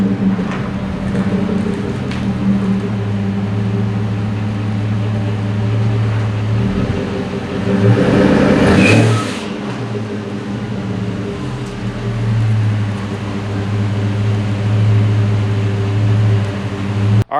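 A truck drives into a workshop with a steady low engine rumble and hum that swells briefly midway, then settles back to a constant drone, with no voices.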